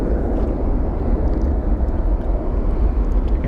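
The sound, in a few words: airplane taxiing across the runway at Phoenix Sky Harbor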